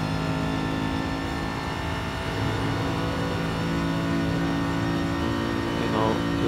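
A simulated race car in a racing video game sweeps through a long right-hand corner at Sainte Croix, its engine holding a dense sustained drone at constant load, loud and continuous throughout.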